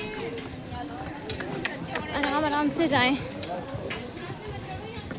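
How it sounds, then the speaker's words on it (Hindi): Horses and mules clip-clop along a busy pilgrimage path on the Vaishnodevi yatra route, their hooves steady under a person speaking and the murmur of the crowd, with faint clinks in the mix. "इधर से घोड़े खच्चर भी आ रहे होते हैं"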